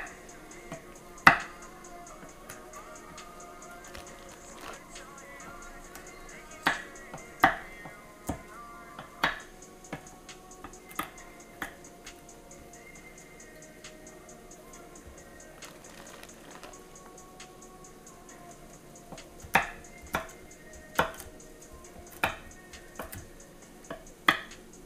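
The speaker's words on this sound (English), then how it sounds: "I think that is a good amount of carrots we chopped." Carrots being chopped with a knife on a board in a home kitchen, sharp irregular chops in small bursts, quiet and close, with low room hum between strokes.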